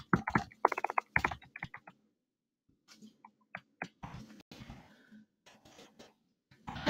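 Close, quiet clicking of computer keyboard keys in quick irregular runs, with a pause between bursts and some softer scattered taps.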